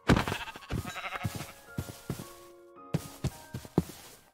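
Sheep bleating in the video game Minecraft (version 1.19.3, survival mode), several short bleats repeating at irregular intervals, fairly close, with a quiet gap before a few more calls.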